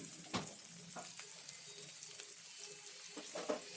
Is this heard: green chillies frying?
yes